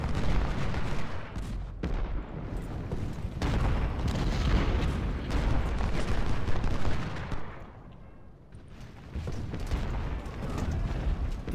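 Rifle volleys and scattered musket fire crackle across a Civil War battlefield in Ultimate General: Civil War, a dense, continuous rattle of shots with heavier booms, sustained for several seconds with a brief lull near the end.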